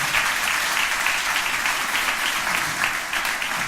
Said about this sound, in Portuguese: Você pode aplaudir ao Senhor mais uma vez nessa manhã?